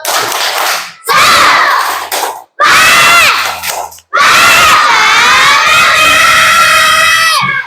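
A group of schoolchildren in a classroom shout a loud Indonesian spirit chant in bursts, with rhythmic claps and pauses between the cheering phrases.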